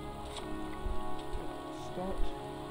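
Pouring rain falling steadily in a cemetery in the Heavy Rain video game, a dense continuous hiss with faint low rumbles and a few brief sounds mixed in.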